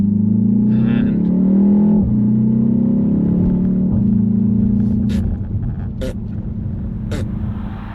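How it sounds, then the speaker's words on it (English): A BMW X1 M35i under way, its engine a loud, steady drone, with sharp exhaust pops on each gear change: several crisp cracks in the final few seconds. "it does seem to have inherited some DSG style farts, which even DSG gearbox cars don't have anymore"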